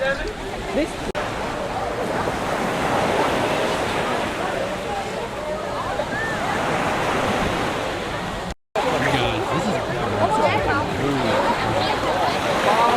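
Waves break and wind blows steadily on a beach at Grand Turk, a continuous wash of surf with a faint murmur of people in the background and a brief dropout partway through.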